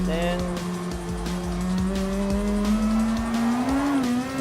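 A race car in Gran Turismo Sport's All Japan GT Championship, its engine droning and climbing steadily in pitch with faint tire squeal, a voice talking over the game sound.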